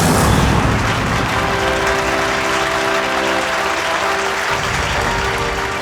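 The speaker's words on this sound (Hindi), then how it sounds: "ऑडियंस इसलिए तालियां बजा रही है" Audience applause at a magic show, a dense steady wash of clapping that stays loud across the whole stretch with faint tonal music underneath and no talk.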